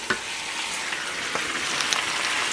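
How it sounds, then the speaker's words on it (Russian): Food frying in a pan is stirred, making a continuous close sizzle with occasional soft scrapes and clicks of the utensil against the pan, with no voices. "И вот так перемешиваем."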